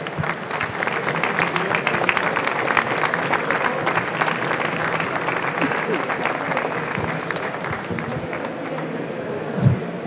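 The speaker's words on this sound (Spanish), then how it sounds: "yo les pido un fuerte aplauso para ellos" Sustained audience applause fills the room, a dense, even wash of many hands clapping for ten seconds, with a faint voice briefly near the end.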